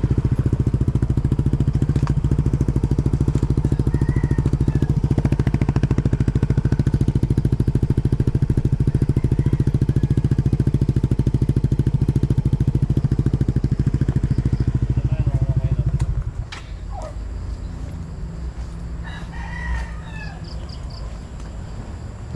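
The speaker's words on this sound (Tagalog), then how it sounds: "Tahimik lang pala yung tambutso na yan." A Yamaha Mio MXI 125 scooter fitted with an aftermarket exhaust idles close by with a steady, even drone for about sixteen seconds, then cuts out, leaving quieter background sounds and faint bird calls.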